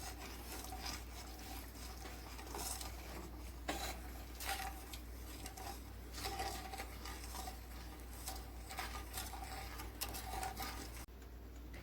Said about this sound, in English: And we're just mixing that all together.